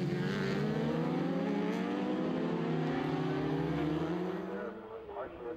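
A Honda superbike races past during the Cookstown 100 road race, its high engine note climbing and shifting loudly as it passes close, then easing off toward the end.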